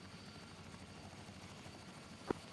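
A military helicopter spooling up for lift-off in a video game, a faint steady rotor and turbine drone running throughout, with one brief sharp click near the end.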